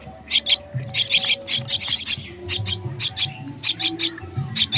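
A baby myna bird chirps while being fed, giving repeated sharp, high-pitched cheeps in bursts of two to four, close to the microphone and clear over a faint low hum.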